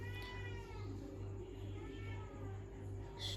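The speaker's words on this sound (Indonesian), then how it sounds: "Kucing." A cat meows a few times, fairly faint, over a constant low electrical hum and background noise.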